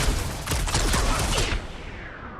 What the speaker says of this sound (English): I'll lay down some cover fire to get you across!